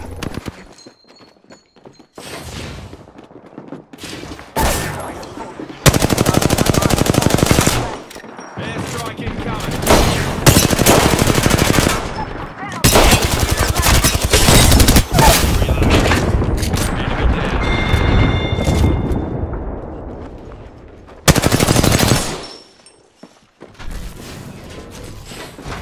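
Rapid bursts of gunfire ring out in the Apex Legends video game, loud repeated volleys and sustained automatic fire broken by short pauses, with occasional game voice lines.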